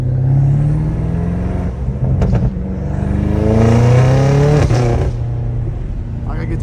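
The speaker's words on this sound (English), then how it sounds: "I just love how it pops so good in like fourth gear" A straight-piped BMW M5 exhaust revs loudly up and down from inside the car, rising and falling engine pitch with sharp crackling pops between pulls, voices faintly under it.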